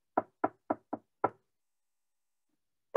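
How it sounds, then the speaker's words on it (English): Five crisp knocks on a door, evenly spaced then a slight pause before the last, followed by silence. "Knock on a door."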